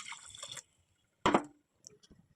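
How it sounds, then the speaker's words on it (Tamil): Water is poured into a pan of egg curry in a home kitchen, a short splashing burst between quieter clinks and drips in a mostly still room. "தேவையான அளவு தண்ணி ஊற்றிக்கோங்க."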